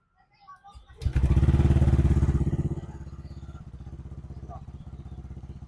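A Yamaha scooter of the Aerox, Lexi or NMAX type starts up at once and settles into a rapid, even idle putter, loud at first and then steadier nearby, with a voice speaking over it.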